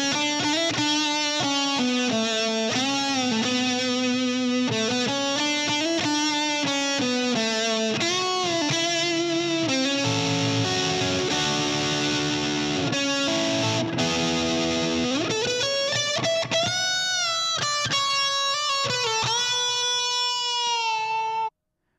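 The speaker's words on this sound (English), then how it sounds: "Now here's the track with the send to the reverb on." A distorted, effects-heavy music track plays continuously in Logic Pro with a reverb send switched on, giving the melody a washed, spacious tail, loud and without any voice over it.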